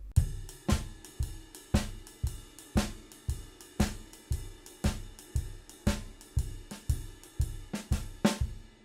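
A drum kit plays a shuffle groove in a loose, dismissive manner, a steady repeating pattern of kick and cymbal hits at moderate loudness with a relaxed, unaccented feel and no talking.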